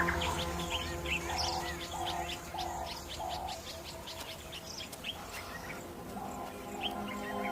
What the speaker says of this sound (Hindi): सूरज ढलने पर क्वेलिया पक्षियों का बड़ा सा झुंड एक साथ इकट्ठा होता है